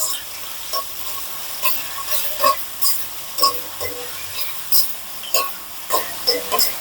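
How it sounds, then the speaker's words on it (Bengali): Chopped onions frying in four tablespoons of hot oil in a wok, with steady close sizzling and repeated clinks and scrapes of a spatula stirring through the pan. "পেঁয়াজটা একটু ভেজে নিচ্ছি।"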